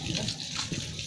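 Filtered water rising from underground on a farm pours out in a continuous, close gush for about a second, steady and splashy with no talk over it.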